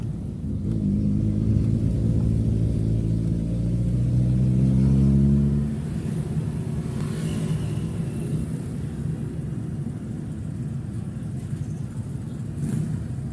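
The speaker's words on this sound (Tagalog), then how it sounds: "Traffic" Road traffic passes close by: a strong, harmonic engine hum swells for about six seconds, then gives way to a lower, continuous vehicle rumble with no voices.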